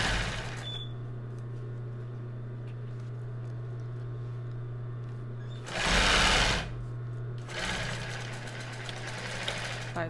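A sewing machine stitches a backstitch finish at the edge of a strapless topper, running with a steady mechanical hum and rattle broken by two louder bursts of rapid stitching near the end.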